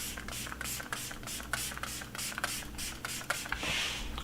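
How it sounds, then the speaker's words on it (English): Alcohol-free Fablu setting spray misted onto a face: a quick series of soft, close hissing spritzes in a steady rhythm, faint against a quiet room. "I'm going to put a little bit of setting spray right now"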